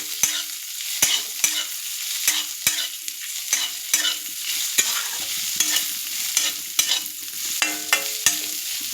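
Bay leaves, dried chillies and five-spice seeds fry in hot oil while being stirred for a taro and pumpkin curry, a steady close sizzle broken by regular sharp scrapes of the spoon against the pan.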